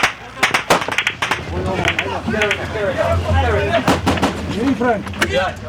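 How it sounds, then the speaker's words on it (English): Taliban gunfire from a compound about 80 metres away during fighting in Afghanistan in 2011, sharp cracks and bursts of shots with bullets striking vehicles, loud and close amid constant shouting from soldiers. "Taliban fighters fire from a compound just 80 metres away. Bullets hit the vehicles."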